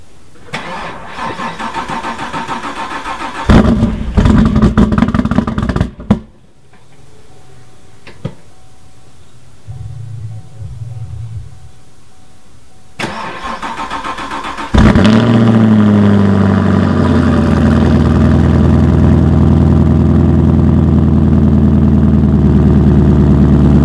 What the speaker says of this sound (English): we're gonna have to do a cold start for you